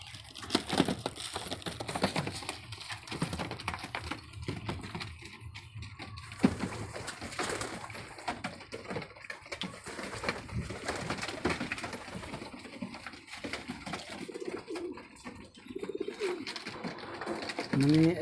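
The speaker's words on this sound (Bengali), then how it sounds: "এই যে দেখেন এই যে কিছু উপরেও কবুতর উঠতেছে ঘরটার বাইরে, যে আরো কবুতর আছে এদের।" Pigeons cooing around and atop their coop, soft repeated throaty coos mixed with rustling and wing flutters at close range, fairly quiet throughout.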